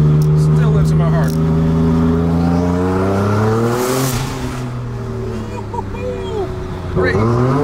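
A 1200 hp Porsche 911 Turbo S accelerates hard, its engine note climbing loud and close from inside the car. A sharp turbo blow-off whoosh cuts in midway before the engine pulls up again, with voices faintly underneath.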